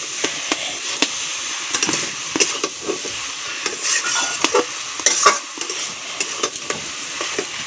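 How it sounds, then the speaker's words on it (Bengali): Cabbage fries in a pan with bay leaf and ground spice paste, a spoon stirring with frequent sharp scrapes and clinks over a constant sizzle, no speech. "দিয়ে এখন সুন্দর করে কপিটা ভাজা করতে হবে।"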